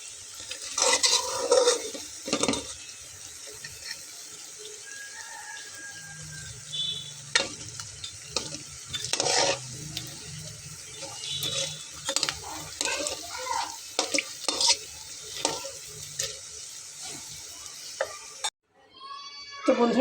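Semolina and potato snacks frying in oil sizzle gently while a spoon or slotted ladle clinks and scrapes against the pan at irregular intervals, lifting pieces out to drain; the sound is fairly close and stays moderate throughout.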